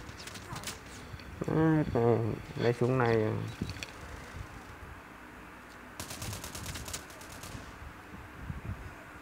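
Gunfire in the mobile shooter game Call of Duty: Mobile, with rapid bursts of shots cracking out after someone speaks excitedly over the gameplay.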